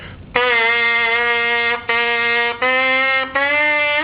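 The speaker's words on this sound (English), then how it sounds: "When I buzz the mouthpiece, I want to keep that same angle." A trumpet mouthpiece buzzes alone in four sustained tones, the first long and the rest shorter, loud and close with brief gaps between.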